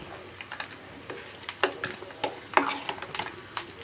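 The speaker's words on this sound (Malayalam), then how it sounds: "ഇനി ഇത് നന്നായിട്ട് ഇളക്കിയിട്ട് ഒന്ന് തിള വരണം" Jackfruit erissery curry being stirred in a cooking pot, with soft scraping and clinking of a spoon against the pot in irregular light strokes, close and fairly quiet.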